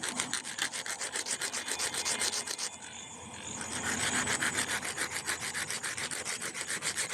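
Nuts being rubbed together firmly by hand in a steady, rapid back-and-forth rhythm, a close, dense scraping rasp that pauses briefly partway through and then resumes with no voices.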